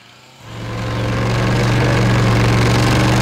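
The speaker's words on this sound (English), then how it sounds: "The chainsaw growls to life and makes short work of the intruding foliage" A chainsaw starts up and runs steadily while cutting fallen trees blocking a track on a Scottish hill, loud and close, a low droning engine tone with no talk.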